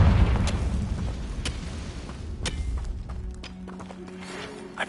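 A fire spell blast in Hogwarts Legacy erupts as a loud, rumbling burst that rolls on and slowly fades, with a few sharp crackles and thuds scattered through the decay.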